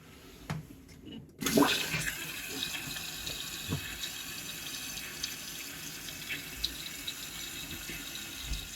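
Toilet tank refilling with water after a leak repair, with a steady close hiss of water rushing in and splashing that continues alone after a brief clunk.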